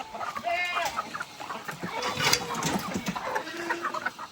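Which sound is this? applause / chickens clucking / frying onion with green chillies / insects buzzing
chickens clucking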